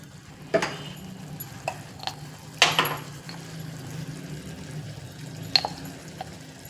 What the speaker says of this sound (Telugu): ఇప్పుడు సరిపడే పసుపు ఉప్పు కారం అన్నీ వేసేసి బాగా కలిపేద్దాం